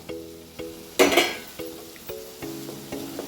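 Boiled, drained paneer drops into a hot pan with a brief loud sizzle and clatter, followed by several spaced clinks from a utensil over a low hum.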